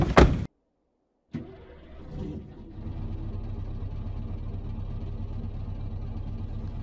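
Scania 113 V8 truck in Euro Truck Simulator 2 hauling sand: after a brief loud burst and a moment of silence, the engine fires up and settles into a steady, deep, droning rumble that holds evenly to the end.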